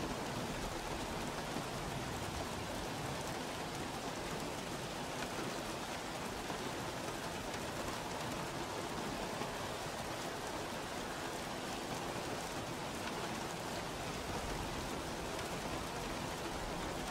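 Steady, dense rain falls throughout a wet race at the Spain circuit in the F1 2016 racing game, a constant hiss with no voices.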